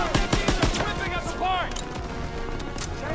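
Enemy machine gun fire in Call of Duty WWII rattles in rapid bursts close by, with sharp repeated shots, whizzing sounds and battlefield noise. Voices shout over the gunfire.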